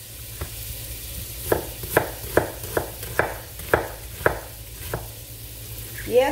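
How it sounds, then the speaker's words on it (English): An onion being chopped on a board in a home kitchen while cabbage and smoked sausage cook, about ten sharp knife strikes in an uneven rhythm, close and clear over a low steady background hum. "we're gonna chop up this onion and get in here"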